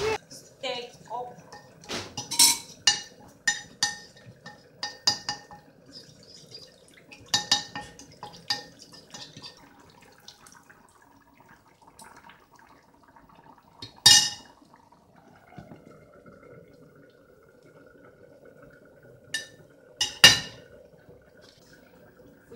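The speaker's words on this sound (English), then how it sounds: "So yeah, stir it up." A pot of boiling mixture on a stove is stirred with flour being mixed in, giving scattered clinks and scraping knocks of a utensil against the pot, interrupted by talk between the bursts of activity.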